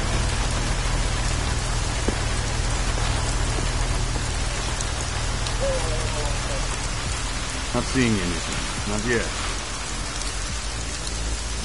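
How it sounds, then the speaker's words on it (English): Heavy rain pours steadily in the video game Deus Ex: Mankind Divided, a dense, loud, continuous hiss of drops on surfaces, with a few short spoken lines and faint thunder-like rumbles underneath. "Enough rain to drown a duck."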